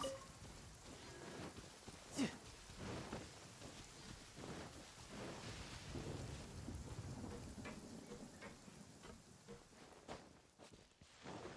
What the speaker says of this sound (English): The sound of the rain scares them away